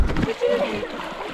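Children splash in a spring-fed pond with no inflowing stream, water sloshing close by in short bursts under a busy outdoor mix of voices.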